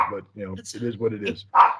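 A Shiba Inu dog gives a single sharp bark indoors at home, coming right after a man's speech and close to the microphone.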